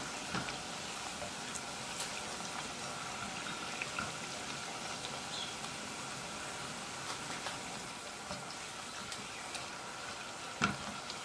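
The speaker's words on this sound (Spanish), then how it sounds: "vamos a estar dando vuelta para que se fría bien por los dos lados" Triangles of buñuelo dough fry in hot oil, a steady soft crackling sizzle with scattered pops continuing throughout, fairly quiet and without talk.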